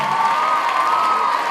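A round of applause for club seniors at an evening gathering: dense, steady clapping from a crowd, loud and continuous without a break.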